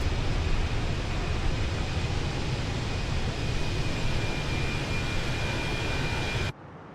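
An Airbus A319 in the Fenix flight simulator game, heard from an external view while cruising at high altitude, gives a steady, loud broadband jet engine roar with a faint whine that cuts off abruptly at the end.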